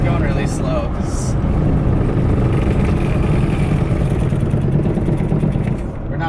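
A 1988 Honda Civic EF hatchback drives on back roads at full throttle. Its engine drones steadily and loudly along with road noise, while people talk inside the car.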